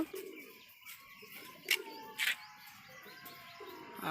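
Soft pigeon coos and a few chirps close by, with brief bursts of wing flutter or rustling against a quiet background.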